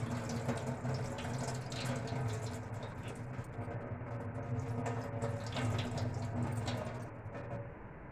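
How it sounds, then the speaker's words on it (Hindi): Water draining from soaked, rinsed poha (flattened rice) in a kitchen, a steady faint trickle and patter that runs continuously for several seconds with no talk. "जैसा आप देख रहे हैं, हम इसका पानी निकाल रहे हैं।"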